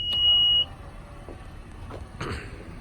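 A 2019 Honda Pilot EX-L AWD power tailgate gives a steady high warning beep for about half a second, followed by a low mechanical hum and a soft latching thud as it closes.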